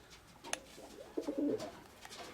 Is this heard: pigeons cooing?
yes